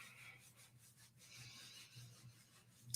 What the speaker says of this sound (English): rub your arms with your hands. So rubbing both sides